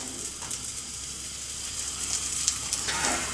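Kadayıf shreds for künefe frying in a pan, giving a steady soft sizzle with faint crackles and a few light clinks near the end.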